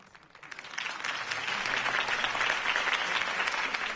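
A crowd at a political campaign rally in a Batman video game applauds a Harvey Dent speech; the clapping swells in from quiet and settles into a steady, full roar.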